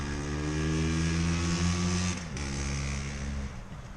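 A 1971 Yamaha RT360 two-stroke motorcycle runs steadily and loudly nearby with a buzzing, harmonic engine drone, its pitch dipping briefly as it passes.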